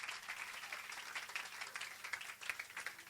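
Congregation at a youth evangelical gathering clapping and cheering to acclaim Jesus, a dense, continuous wash of applause with faint voices mixed in, moderately distant.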